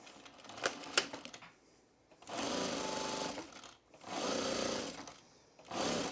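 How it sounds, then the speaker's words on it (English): Sewing machine stitching fabric binding onto vinyl at a quarter-inch seam allowance for a notions case, running in three steady bursts separated by short pauses and a few handling clicks. "we're going to sew at 1/4 inch seam allowance"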